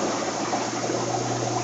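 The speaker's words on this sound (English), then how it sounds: "Now it's flowing back into the tank." Steady rushing water pours continuously back into a fish room aquarium tank after a water change, at moderate volume, a constant broadband flow with no pauses and no voices.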